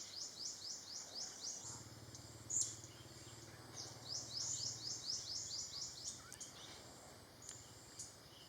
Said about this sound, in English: This one today on the Golden-fronted Leafbird.